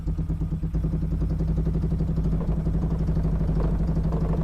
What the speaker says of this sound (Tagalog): Kailangan natin painitin yung makina para makuha natin yung saktong tono.